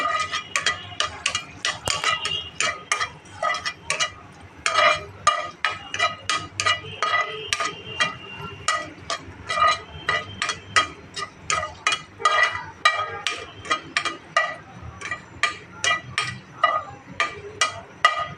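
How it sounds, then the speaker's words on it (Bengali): Two dried red chillies sizzle and crackle in a hot pan, a busy run of sharp pops and ticks with the occasional clink of a spoon against the metal, close and continuous. "দুইটা শুকনো মরিচ ভেজে নেব আগে দুইটা শুকনো মরিচ ভেজে আমি তুলে নেব"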